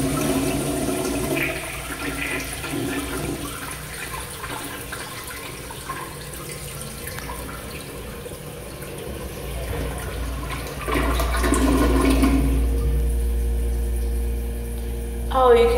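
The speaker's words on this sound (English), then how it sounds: "we got ourselves a vintage American standard toilet" A vintage American Standard toilet flushes in a bathroom, with a loud, close rush of swirling water that keeps gurgling and then surges again as the tank refills.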